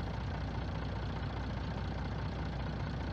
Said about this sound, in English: I'll go back this truck in there and unload.